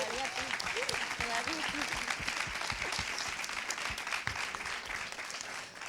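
An audience at a forum panel on women and migration breaks into sustained, even applause throughout, with a voice briefly speaking over the clapping at the start.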